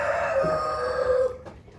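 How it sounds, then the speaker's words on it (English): A rooster crows once in the Philippine countryside, a single drawn-out call heard fairly close, trailing off at the end. "that's the rooster"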